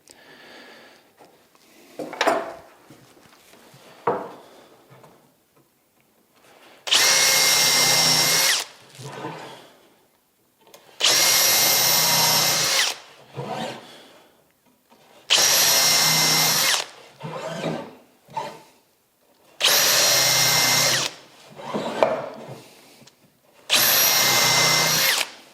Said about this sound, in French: Ces repères vont me servir après percer, bien entendu, et avoir un trou chanfreiné pour loger la tête de la vis.